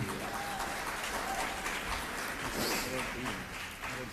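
Applause from the audience at a 2003 debate on American power and the Iraq war, a dense, sustained wash of clapping heard from a distance in a large hall, with a voice briefly audible under it.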